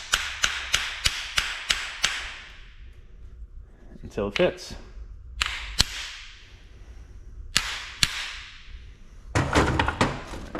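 A hammer taps a U-joint into a Jeep axle shaft held in a vise: a rapid run of sharp, ringing metal strikes, then sparser spaced taps and a final quick cluster, with someone briefly speaking.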